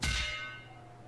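A single bright metallic clang from a hammer in a video game rings out and decays slowly over about a second, with a low hum underneath.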